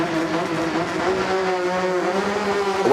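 A Lancia Stratos rally car launches at the Goodwood SpeedWeek rally super special, its engine a loud, close, sustained rasping roar that holds strong for the whole stretch.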